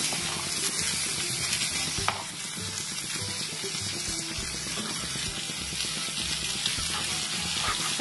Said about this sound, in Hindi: इसे अच्छे से फ्राई करना है, इसका कलर ब्राउन कलर आना है, तब तक हमें इसे फ्राई करना है।